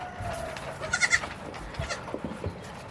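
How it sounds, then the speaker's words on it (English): Black goats bleat at close range outdoors, a cluster of wavering calls in the middle followed by a few shorter bleats against low rustling background noise. "So I have found the 3 black goats."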